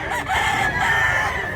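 A rooster crows nearby, one loud, drawn-out call lasting over a second, heard alone.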